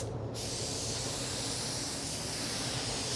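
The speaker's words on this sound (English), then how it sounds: "You spray one nice even coat, let it flash off about 20 minutes, 25 minutes" A spray gun laying down an even coat of urethane-based primer, giving a steady, close, unbroken airy hiss that starts abruptly and holds constant throughout.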